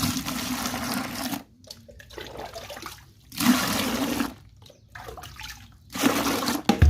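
Two mugs of water are poured into a bucket to dissolve Ariel detergent powder, heard as three separate gushing splashes with quieter pauses between them.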